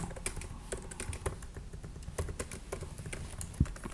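Fast typing on a computer keyboard while entering JavaScript in a code console, a steady close patter of key clicks running continuously with a low background hum and no voices.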